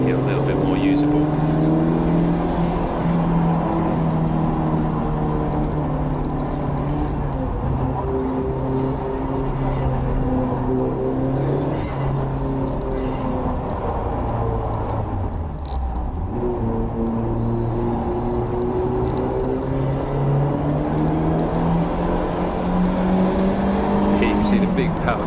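Turbocharged race car lapping Brands Hatch in wet conditions, its engine droning loudly and continuously with rising and falling pitch through gear changes, recorded close from onboard.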